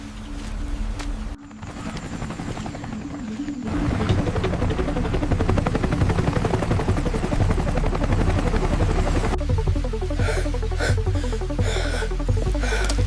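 Helicopter rotors thump loudly and continuously overhead, with a pulsing chop that grows heavier and closer partway through and keeps beating steadily to the end, with no voices.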